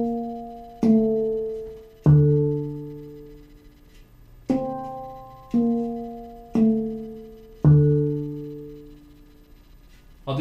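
Low bass notes are struck with the right thumb on the lower tone fields of a Mind Bender, about six ringing, resonant hits at a slow, uneven pace, each decaying before the next.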